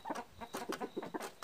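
Frizzle chicken clucking in a quick series of short, rhythmic clucks, faint and close, with no talk.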